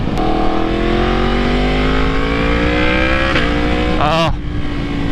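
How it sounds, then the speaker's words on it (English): A 2018 Yamaha MT-10 with its R1-derived crossplane engine accelerates hard through the gears, a loud, close, rising growl with a quick shift and wind rush near the end. "I can't get over that R1 cross-plane sound."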